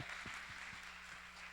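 A church congregation at a Sunday youth service claps briefly for the senior pastor. The applause is faint and distant, with a few sharper claps standing out over a steady hum.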